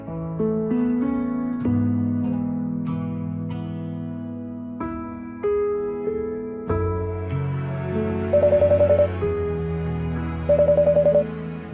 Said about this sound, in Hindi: दीप आंसर तो फोन।